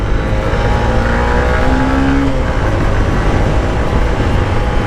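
A 125cc motorcycle engine accelerates on the road during riding practice for an A1 licence. The loud, close engine drone runs continuously over wind rumble, with a rising tone as it picks up speed.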